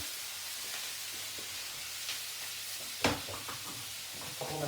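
Frittata mixture stirred in a hot pan, a soft continuous sizzle with occasional scraping strokes and one sharper knock, no voices.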